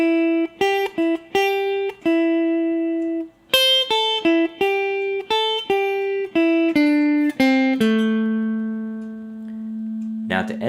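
Guitar playing a blues solo phrase, a run of distinct single picked notes with some held and bent, clean and close, ending on a long sustained note.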